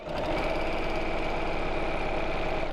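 A sewing machine stitching along a line runs steadily with a fast, even mechanical whirr and rattle, close and continuous throughout without a break.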